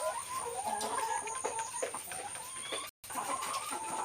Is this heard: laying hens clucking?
yes